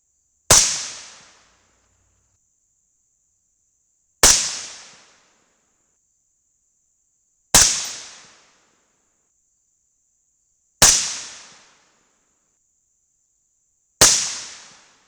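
Five sharp .223 rifle shots with CCI No. 41 primers crack out at regular intervals of about three and a half seconds, each followed by a short decaying echo, with quiet between them.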